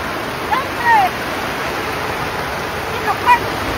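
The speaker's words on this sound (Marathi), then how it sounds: "सगळीकडूनच पाणी शिरलं" Rainwater floods into a homestead and keeps flowing, a steady close rush of running water that holds level throughout, with faint voices and a couple of brief higher tones over it.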